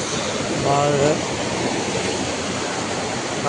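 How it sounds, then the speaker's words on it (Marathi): Water flows in a stream at the cave entrance of the ancient Chandika Devi temple, a steady broadband rush that stays close and even throughout, with a brief voice near the start. "पाण्याचा ओढा किती आहे"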